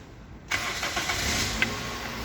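A Toyota Vios engine cranks and catches after a short silence, then settles into a steady, quiet running hum with a few small clicks, indoors in a warehouse.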